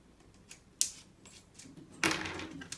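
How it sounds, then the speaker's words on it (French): Box cutter slicing into the packaging of a makeup palette, with two sharp close cutting strokes and a few lighter scrapes, no voices. "Donc je prends mon cutter"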